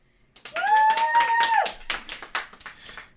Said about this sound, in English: this is a level 3 now, a level 3 applause